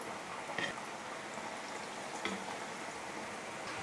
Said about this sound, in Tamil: உருளைக்கிழங்கு எண்ணெயில் போட்டு ஒரு 30 செகண்ட் கழித்து கரண்டி வச்சு நல்லா கலந்து கொடுத்துக்கோங்க